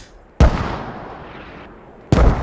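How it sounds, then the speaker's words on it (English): Two heavy mortar blasts in the video game Squad, each a sudden sharp boom followed by a rumbling decay, spaced under two seconds apart with no talk. "We got mortars going off everywhere, it sounds like."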